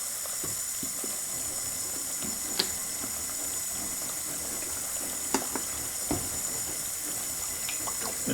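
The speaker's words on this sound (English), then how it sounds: "This is the sink with dishwashing soap." Water runs steadily in a sink with dishwashing soap while parts of a plasma tweeter are cleaned, a constant hiss and splash broken by a few small clinks and knocks, with no talk.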